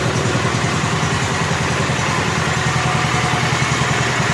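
A rebuilt Kohler K241 engine on a John Deere 210 tractor runs steadily through a muffler in good shape, a close, even, throbbing low putter with a fast regular beat and no pauses.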